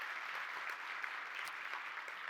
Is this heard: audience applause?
yes